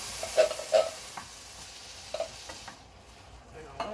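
Drained canned corn sizzles softly in a pan while a utensil stirs it, giving a few sharp scraping clicks over a low, steady frying hiss.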